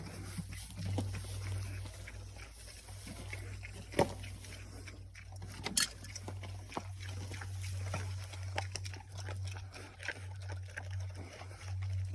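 Pigs named Hank, Pinky and Lulu settle in for their first night together on a small homestead, giving faint, scattered grunts and snuffles over a steady low hum.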